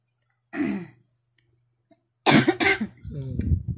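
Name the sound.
cough from allergic rhinitis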